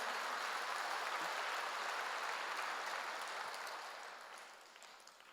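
A church congregation claps together in a broad, steady wash of applause that holds for several seconds, then fades away toward the end.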